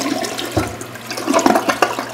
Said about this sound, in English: I'll just flush this.